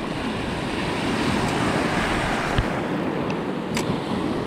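Ocean surf washing over a shallow reef in Okinawa, a steady broadband wash with a few sharper splashes rising out of it, loud and close, carrying on alone without voices.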